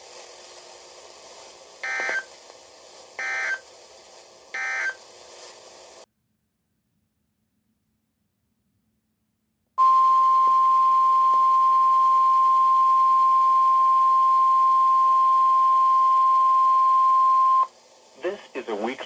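NOAA Weather Radio weekly test alert from station KZZ31 in Hamburg, New Jersey, received on a ZHIWHIS ZWS-604 weather alert radio: three short bursts of tone over static, a silent gap, then a long loud steady alert tone amid hiss, ending in fragments of broadcast.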